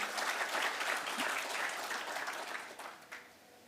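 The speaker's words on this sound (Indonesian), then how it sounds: "Saya mengajak kita untuk memberikan aplaus buat Bapak Gubernur." Audience applause for the governor at the launch of an online SP2D system, a steady burst of clapping from a crowd that holds fairly even, then tapers off with a few last claps near the end.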